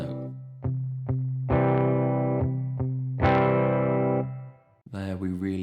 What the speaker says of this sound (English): We're doing that by palm muting through most of the bar, our right hand just dampening the string slightly, and then we lift off with the accented note.